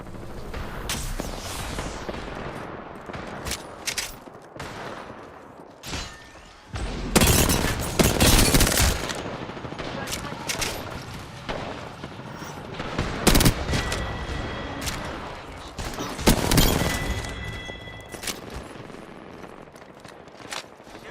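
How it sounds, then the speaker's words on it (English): Weapon fire aimed at an arc star in a space shooter game, bursts of rapid shots and loud cracking blasts that come in uneven clusters with short lulls between, close and sharp, no voices over it. "Shooting at an arc star."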